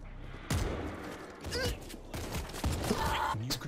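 Shotgun blasts in the zombie shooter World War Z ring out as a few sharp, loud bursts spaced across a few seconds, with game noise and brief voices between the shots.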